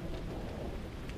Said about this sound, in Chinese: 下这么大雨，也不知道程哥带没带伞。